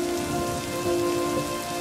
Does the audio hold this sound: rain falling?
yes